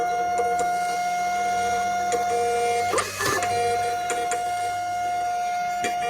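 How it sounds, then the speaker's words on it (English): A Dymo label printer runs steadily, printing shipping labels with a constant motor whine and faint periodic ticks, a brief rustle of paper midway, close and alone. "All right, print labels. Dymo. Print. Go."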